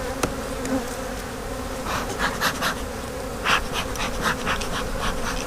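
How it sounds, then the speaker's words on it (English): Honey bees buzz during a hive inspection in a backyard apiary, a dense, continuous drone close by, with individual bees whizzing past in louder swells and no talking. "these bees are going to be a little bit testy."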